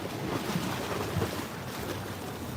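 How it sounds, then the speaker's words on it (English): Ocean waves rolling onto a Big Island beach in Hawaii, a soft continuous wash of surf with light wind rumble, fairly quiet and steady with no voices. "Come the waves again."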